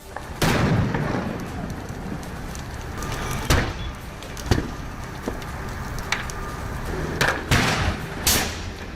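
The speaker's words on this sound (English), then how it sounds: "The vehicle repeatedly exploded, forcing other vehicles to avoid the area." A burning Ford pickup truck on a street, loud sharp bangs and pops recurring at irregular intervals over a constant roaring rumble of fire, close by.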